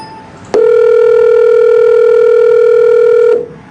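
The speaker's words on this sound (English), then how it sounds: "I think this is the ringing tone," North American telephone ringing tone made of 440 and 480 Hz sine waves played together, a single loud steady electronic hum starting abruptly and holding for about three seconds before cutting off.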